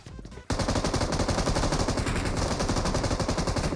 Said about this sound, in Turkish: Aa, vurdum onu ben vurdum.